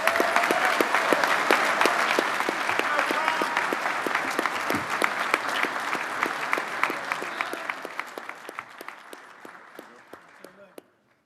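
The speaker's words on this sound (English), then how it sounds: "please join me in a round of applause for the Communications Award recipients" An audience at an awards dinner claps loudly and steadily for communications award recipients, a dense wash of many hands that thins and fades toward the end, with a few final claps.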